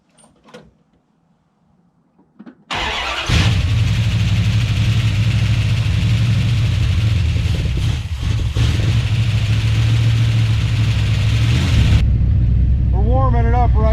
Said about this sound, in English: We're warming it up right now